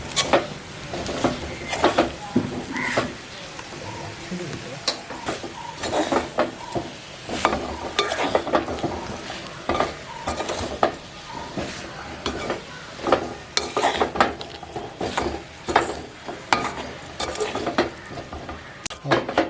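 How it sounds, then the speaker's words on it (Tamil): Spicy cassava pieces are tossed with spice powders in a pan, with close, irregular scraping and clinking of a utensil against metal over a faint sizzle. "வெயில் எல்லா இடத்துலையும் இந்த தூள்களும் இதெல்லாம் பரப்ப மாதிரி பிரட்டி எடுப்போம்."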